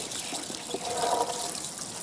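Water poured over newly planted Rosa hardwood cuttings in autumn garden soil makes a steady, soft splashing trickle, close by and continuous throughout.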